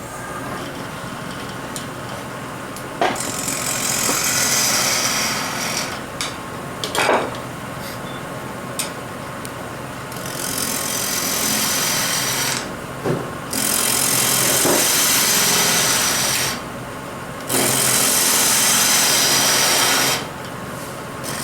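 A woodturning gouge cutting a spinning disc vase on a lathe, chattering and vibrating as it passes through air gaps, loud rasping bursts alternating with quieter stretches and scattered knocks.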